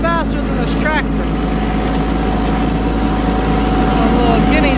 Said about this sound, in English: The side-by-side gets down here a lot faster than this tractor.